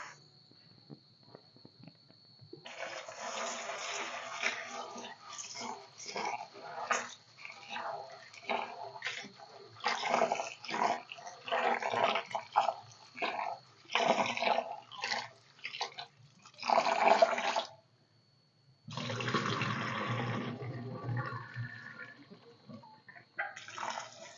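A dal lentil mix is washed by hand in a bowl of water, giving repeated swishing, sloshing bursts with brief pauses and a pour near the end, fairly faint and close, over a faint steady insect chirp.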